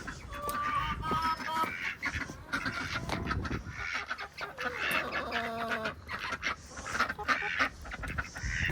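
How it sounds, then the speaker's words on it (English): Several chickens clucking and squawking nearby, a busy, continuous chatter of overlapping calls. "You see the chickens there."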